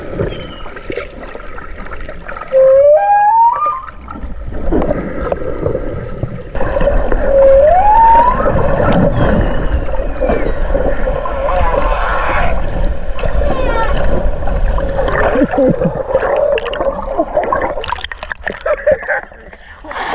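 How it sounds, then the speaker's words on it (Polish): Underwater GoPro recording of whales vocalizing, rising tonal calls and moans over rushing water and bubbling noise, with a voice talking faintly in the mix. "Co to są whale? Wieloryby."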